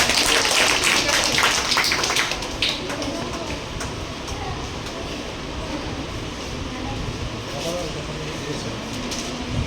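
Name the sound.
audience clapping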